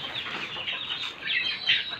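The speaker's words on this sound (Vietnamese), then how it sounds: "Rồi đây mình cho 3 chú gà con." Three young chicks on a small Vietnamese backyard farm, just moved to a new pen and separated from the hen, chirp in a dense high-pitched chatter of overlapping peeps, close and fairly quiet, with brighter calls toward the end.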